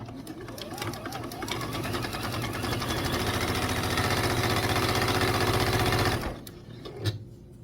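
Sewing machine running a 1/4 inch stitch around the binding of a vintage quilt table runner, a steady rapid mechanical chatter close by that holds for about six seconds and then stops, followed by a couple of small clicks.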